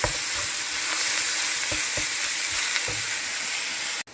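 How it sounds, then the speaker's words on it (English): Ground turkey browns in a hot pan with a dense, steady sizzle and occasional stirring scrapes, ending in a brief clatter. "While browning my ground turkey"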